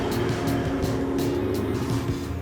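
A four-wheel-drive vehicle drives at an easy pace along a mountain track, its engine giving a steady, close, continuous rumble with faint rhythmic bumps and no talking.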